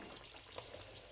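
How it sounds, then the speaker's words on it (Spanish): Chicken breast fillets fry in oil with a faint, soft, continuous sizzle and a few tiny pops over about a second. "Le ponemos por encima aceitito para que se vaya friendo"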